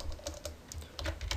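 Rapid typing on a computer keyboard, clustered bursts of close, crisp key clicks with short pauses in between, heard alone without talk.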